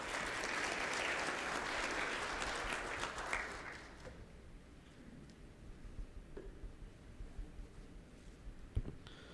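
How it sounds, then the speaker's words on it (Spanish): Audience at a health and education policy results presentation gives loud, dense applause that fills the room for about four seconds, then fades to scattered faint claps and room noise. "Recibámoslo con un fuerte aplauso, por favor."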